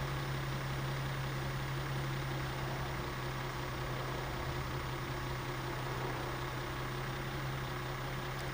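The restored engine of a 1950 Ford Coupe runs steadily during break-in, giving a continuous, even, low hum that stays constant with no talk.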